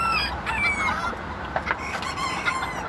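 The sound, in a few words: bantam chicken clucking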